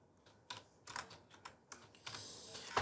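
Someone types a command on a computer keyboard, giving a quick irregular run of soft, close key clicks ending in a slightly louder tap.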